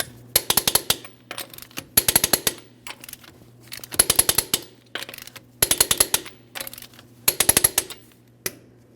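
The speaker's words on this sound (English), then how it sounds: "we're going to be torquing each one of these lug nuts in a crisscross manner to that 110 foot-pounds" Five rapid bursts of an impact wrench torquing lug nuts on a 2005-2010 Chrysler 300 wheel, each burst a quick stuttering rattle separated by short pauses over a low steady hum, close and loud with no talking.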